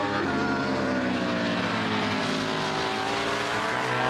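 Racing motorcycles, including a Ducati, scream on the rev limiter in sixth gear into turn one at a classic bike race, a loud continuous high-pitched engine wail with a steady droning buzz throughout.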